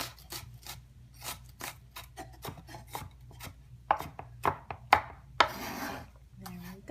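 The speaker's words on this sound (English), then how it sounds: "Let's see a little chopping action." A knife chops shallots roughly on a cutting board: a run of quick, close taps that grows into a dense, rasping flurry of cuts near the end.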